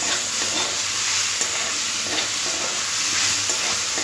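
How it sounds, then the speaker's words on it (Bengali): Poppy seeds lightly frying in oil for a radish-greens dish: a steady bright sizzle with faint intermittent stirring scrapes, close and continuous, no voices. "পোস্তটা একটু হালকা করে তেলের সাথে একটু ভেজে নিতে হবে।"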